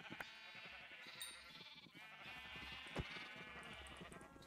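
Bleating from baby sheep on a farm in a video game, heard as a few soft, thin cries under steady background game music and ambience, fairly faint throughout.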